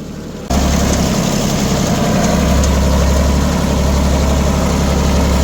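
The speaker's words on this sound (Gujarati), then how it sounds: "હવે આપણે આપણે ટ્રેક્ટર લઈને હવે જઈએ છીએ" A heavy diesel tractor engine starts up and settles into a loud, steady, low idling rumble with constant vibration, close by and without speech.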